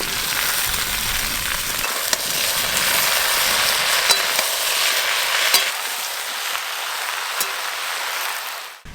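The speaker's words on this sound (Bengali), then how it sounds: "আলু, পুঁই শাক আর ডাঁটা খুব ভালো করে ভাজা ভাজা করে নিয়েছি" Malabar spinach leaves, stems and potato fry in oil in a pan, giving a steady loud sizzle with occasional clicks and stirring scrapes throughout.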